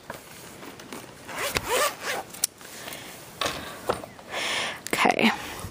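Zipper being drawn open on a fabric pencil case holding Faber-Castell Albrecht Dürer watercolor pencils, heard close up as several quick rasping pulls in bursts with short pauses between them.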